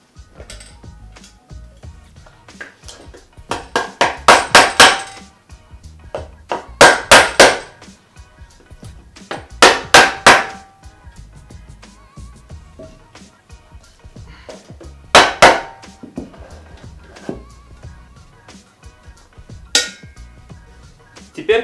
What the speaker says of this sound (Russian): Ставите спейсер и ставим второй подшипник, также его забиваем.